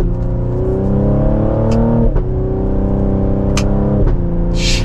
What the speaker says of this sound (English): let's do one last acceleration for today's video